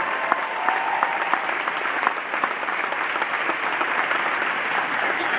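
A large gala crowd at the Marian Anderson Award event in Philadelphia gives Carol Tenari a huge round of applause, dense steady clapping that fills the room evenly from start to finish with no voices on top.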